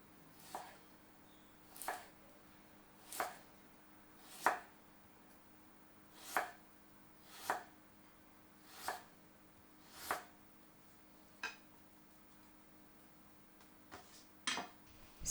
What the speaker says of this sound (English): To julienne, thinly slice the carrot pieces lengthwise.